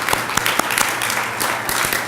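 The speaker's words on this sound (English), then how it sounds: "and another big round of applause." A big round of applause from the crowd at a staff meeting, dense and steady, punctuated by a few sharp, close individual claps.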